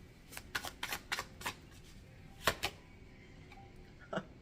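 Close, crisp snaps of a tarot deck being riffled and shuffled in short clusters, separated by brief quiet gaps.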